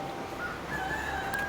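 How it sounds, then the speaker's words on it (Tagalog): A rooster among many chickens crows, a faint drawn-out call over a steady background murmur of fowl. "Ang daming manok."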